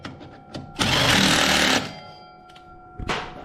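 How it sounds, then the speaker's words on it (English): Brake mounting bolts on a Harley-Davidson Road Glide being tightened with a power tool: a loud, one-second rattling burst of the impact driver, framed by faint clicks and a second short burst at the end. "So we'll tighten up our mounting bolts"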